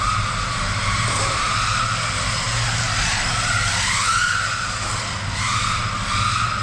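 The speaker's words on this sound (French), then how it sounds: "le moteur charbon, le brushless, il a du mal des fois à démarrer" Brushless motor of an RC car on an indoor run, whining and revving in short throttle bursts with rising and falling pitch, loud and close, running continuously without pause.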